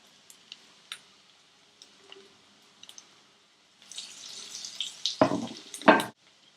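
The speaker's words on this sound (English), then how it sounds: "I'm going to drop it into my oil." Kheema patties dropped into hot oil after a coating of breadcrumbs, with a few faint clicks and taps first, then a loud sizzling burst that swells, crackles sharply twice and cuts off.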